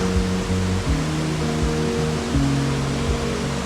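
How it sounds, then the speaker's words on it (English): A river in the Indonesian jungle roars nearby, a loud, continuous wash of rushing water with a steady broadband rumble, overlaid by faint low hums that rise and fall. "You hear the water roaring"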